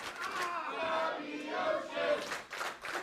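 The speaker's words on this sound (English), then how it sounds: "Crowd now firmly behind hard-hitting Bobby Ocean" A wrestling crowd at an independent show roars and chants in support of a wrestler, a sustained mass of shouting voices that swells and dips with scattered louder cries.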